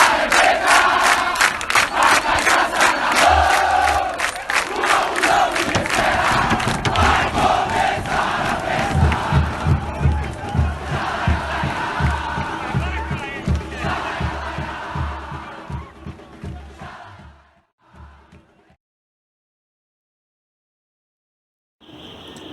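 An organized crowd of football supporters chants in a stadium, with loud, rhythmic massed voices and a pounding low beat that keep going before fading out into silence, followed by a brief burst of sound.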